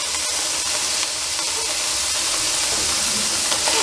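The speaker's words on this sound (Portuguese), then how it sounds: "Vamos fritar aqui a nossa carneina." Minced meat fries in a pan for a beef macaroni dish, a loud, close, continuous hiss and sizzle with a single sharp tap near the start and no voices.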